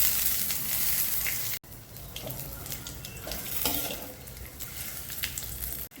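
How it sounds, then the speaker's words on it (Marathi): Dried coconut roasting in a pan for a mutton curry, giving a steady dry sizzle and crackle with occasional stirring scrapes, loud and close, with a brief cut partway through. "खोबरे भाजायला टाकते."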